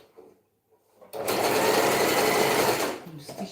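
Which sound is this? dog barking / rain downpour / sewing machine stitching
sewing machine stitching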